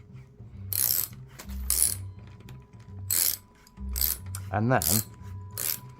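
Locking guitar tuners being hand tightened on a headstock: close, repeated bursts of clicking and ratcheting mechanism noise in uneven spurts, with a brief spoken word over it.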